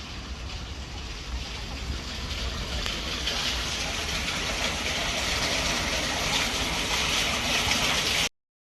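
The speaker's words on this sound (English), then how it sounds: "Listening to the sound of the river in the sewer to confirm my location." A river runs through an underground sewer, making a steady, loud, broadband rushing roar that stays even throughout and then cuts off abruptly.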